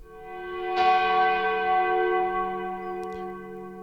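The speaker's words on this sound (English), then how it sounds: "a church bell" A single church bell strikes once and rings out, its deep harmonic tone sustaining and slowly fading with a gentle echo.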